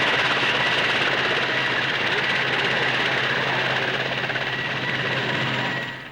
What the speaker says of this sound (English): The Bristol 192 is a twin-engine helicopter in production for the Royal Air Force.